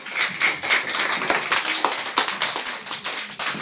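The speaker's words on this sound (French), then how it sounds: "On vous applaudit." A school class applauding two students after their instrument performance, dense steady clapping from many hands, close and lively, lasting several seconds without speech.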